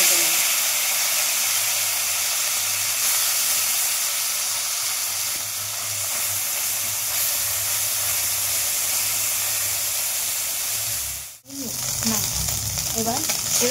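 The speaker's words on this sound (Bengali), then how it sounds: "যে মাছগুলো ছিল সেইগুলো আমি কড়াই দিয়ে ভেজে নেব।" Small fish frying in oil in a wok, a constant close sizzle that breaks off for a moment near the end before resuming with a few stirring clatters.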